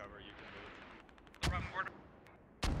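Mortar fire in the military shooter Squad, distant thumps followed by two sharp, loud impacts about a second apart, with faint background activity between them.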